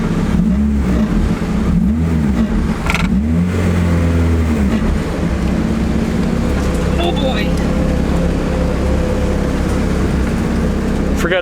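A right-hand-drive Acura Integra with a heavy cable-converted clutch and manual steering accelerates, its mid-pitched engine droning steadily and rising through revs, heard from inside the cabin with no clear talk.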